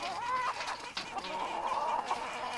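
Chickens clucking close by, a steady run of throaty clucks and brief squawks with no talking over them.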